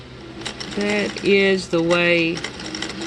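A sewing machine stitches edging on a hoodie, its mechanical whir and ratcheting hum heard close up, partly beneath a voice talking over it.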